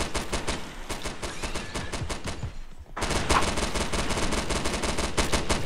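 Automatic weapon in the Primal Fears co-op shooter firing on its own in a long, steady stream of rapid shots, loud and continuous with a brief dip before the fire resumes even denser.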